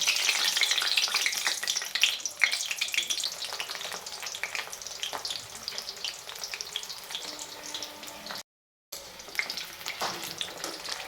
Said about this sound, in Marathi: आपण बटाटा फ्राय करून घेऊया.